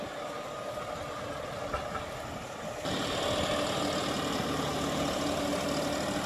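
A John Deere 5075E tractor pulling a 5-point cultivator through dry field soil, its diesel engine running steadily and growing louder and rougher partway through, with no talking.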